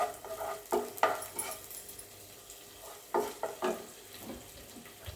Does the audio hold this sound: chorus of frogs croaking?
no